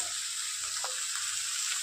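Cut potatoes and bottle gourd peel hit a pan of oil with fried black cumin seeds, giving a dense, even sizzle up close with no voices.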